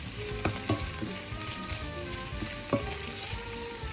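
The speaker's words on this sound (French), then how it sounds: "Je rajoute mes 2 types de poivrons rouges, donc le poivron rouge frais et del piquillo. Et je vais laisser revenir tout ça pendant 10 minutes." Onions with fresh red bell pepper and piquillo peppers frying in a pan, a soft steady sizzle with a few light clicks of stirring, fairly quiet and without speech.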